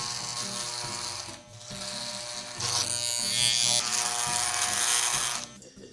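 Electric hair clippers buzz close up while someone cuts their own hair at the back of the head, a steady motor drone that shifts and grows louder and harsher midway as the blades work through the hair.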